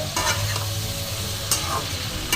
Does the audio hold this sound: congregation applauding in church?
no